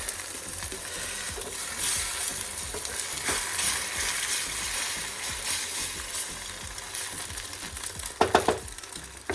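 Egg cooking with mushrooms in a hot pan, a steady sizzle running throughout with scraping stirs, a brief clatter of utensil knocks near the end.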